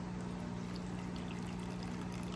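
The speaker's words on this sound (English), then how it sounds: "I should add a little bit of water now that these two have been planted" Water pours steadily into a planted aquarium holding freshly planted TopFin Bacopa stem plants, a soft continuous trickling wash with a low hum underneath, fairly quiet and close, with no talking.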